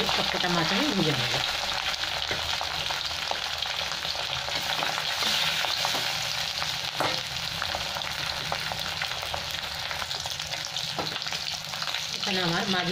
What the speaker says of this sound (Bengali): এরকম করে সবকটা মাছ আমি ভেজে নেব।